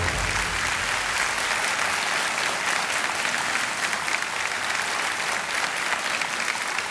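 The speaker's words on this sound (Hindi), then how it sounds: "तालियां बजती हैं इनके लिए।" A studio audience at a televised quiz show applauds a contestant who has just won a cash cheque, a dense, even clapping that holds steady at moderate loudness for the whole stretch.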